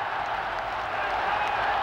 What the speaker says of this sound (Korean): 양편으로 갈린 관중들이 열광합니다